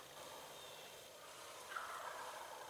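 Wild turkeys gobbling during a spring turkey hunt in Wisconsin, a faint distant gobble rising out of steady outdoor background noise partway through.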